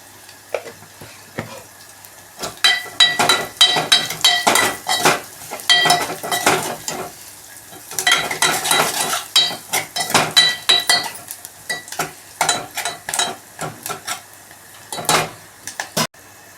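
Onions and green chilies fry with salt in a pan, a bright sizzle broken by repeated bursts of metal spatula scraping and clanking as they are stirred, pausing briefly midway.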